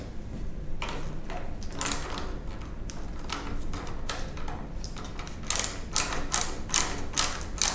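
Burton Step On snowboard binding release lever mechanism being worked, giving soft clicking and ratcheting clicks that turn into a quick run of sharp, close mechanical clicks near the end.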